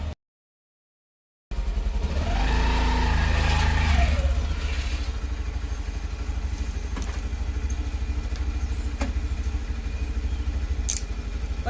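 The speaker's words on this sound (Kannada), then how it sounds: "ಜಾನ್ ಅವರು ಇವಾಗ ಗಾಡಿ ಸ್ಟಾರ್ಟ್ ಮಾಡಿ ರೆಡಿ ಆದರೂ" A motorbike engine idles steadily and close by after a start, with a low continuous rumble, brief revving near the beginning and a few clicks and clatters over the top.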